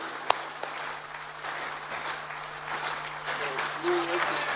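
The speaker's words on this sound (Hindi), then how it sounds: "एक बार दोनों हाथ उठाएं और तब तक तालियां बजाते रहें" A crowd applauds at a Hindi poetry gathering in Raipur, a broad sustained patter of clapping across a large audience, with a sharp knock near the start and some voices mixed into the noise.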